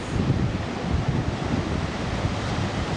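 Pacific Ocean surf off Maui, a steady broadband wash of waves mixed with gusty wind buffeting the microphone, continuous and fairly loud with no voices.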